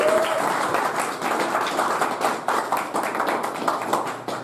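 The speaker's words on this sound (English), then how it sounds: "So round of applause to everyone at the beginning." A room full of people clapping steadily, a dense sustained round of applause with no talking over it.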